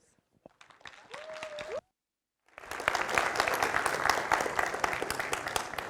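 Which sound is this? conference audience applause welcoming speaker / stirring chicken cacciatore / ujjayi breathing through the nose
conference audience applause welcoming speaker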